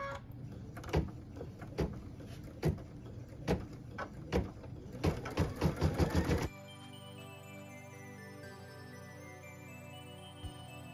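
An embroidery machine stitches the tack-down line on a Peace on Earth ornament: a run of sharp, rhythmic clicks and thumps gives way to a steady, low mechanical whir that continues quietly to the end.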